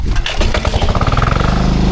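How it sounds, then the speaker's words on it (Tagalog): A loud 16 horsepower motor running up close, a steady throbbing engine chug with a fast pulsing rhythm throughout, alone without speech. "Ang lakas ng motor na yan eh. 16 horsepower kasi."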